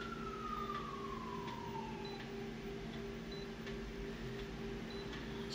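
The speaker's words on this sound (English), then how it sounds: "Heard a siren go by," A distant siren wails and slowly falls in pitch as it passes, over a steady low hum and faint ticking.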